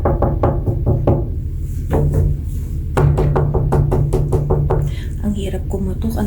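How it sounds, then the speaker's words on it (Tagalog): A voice talks while a series of sharp knocks rap on a solid door in uneven bursts, some quick and clustered. "Ang hirap kumatok, ang tigas ng pinto."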